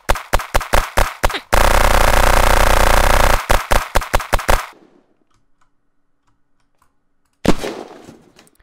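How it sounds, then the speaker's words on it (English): Rapid gunfire hitting a metal wall in the game Unturned, from a dragon fang weapon. Sharp shot bursts in quick strings, then a long sustained roar of fire, more bursts, a few seconds of near silence, and a final loud blast that fades. "74 shots to destroy a metal wall without repairing it"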